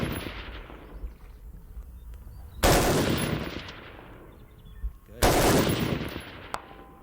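An M16A4 rifle fires at targets 300 yards away on a range: two sharp, loud cracks several seconds apart, each trailing off in a long rolling echo, with faint background noise between them.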